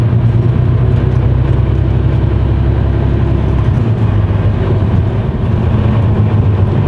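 A car is driven homeward under throttle, its loud, steady engine and road rumble filling the cabin without interruption and with no voices.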